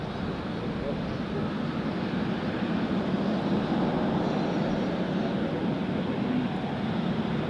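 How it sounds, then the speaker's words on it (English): A Singapore Airlines Boeing 777 departs on runway 34 at Zurich, heard as a steady, fairly distant broadband jet roar that holds evenly throughout with no talk. "you're just in time to see the Singapore Airlines 777 departing right in front of us"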